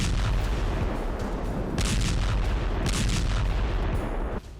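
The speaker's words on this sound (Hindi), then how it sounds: "शहर के हर कोने में आईडीएफ आसमान से बम बरसा रही है।" Bombs and artillery explode in Khan Younis, Gaza, as a dense, loud, continuous rumble with repeated heavy booms swelling through it before it cuts off abruptly.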